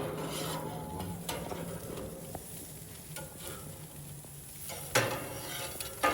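Burgers sizzle steadily on a hot griddle while a spatula scrapes and clanks against the metal surface, with a sharper scrape near the end as the patties are flipped.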